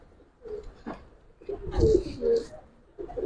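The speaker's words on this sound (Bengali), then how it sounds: "এগুলো কবুতর ভাই" Giribaz pigeons cooing nearby, a few low throaty coos rising and falling, with background voices and movement around a pigeon keeper's lofts.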